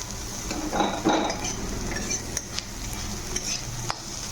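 Bitter gourd frying with spices in a pan, a steady close sizzle with a couple of louder stirring scrapes early and scattered metal clicks of a spatula against the pan.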